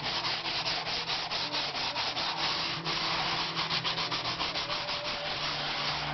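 Sandpaper rubbing steadily back and forth to smooth a base, a continuous close scratchy sanding with a quick regular stroke rhythm and no voices.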